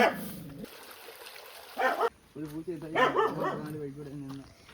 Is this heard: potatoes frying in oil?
no